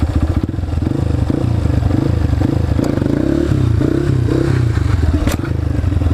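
A dirt bike engine runs loud and close, its throttle rising and falling in pulsing revs with some clattering as the rider pops a wheelie.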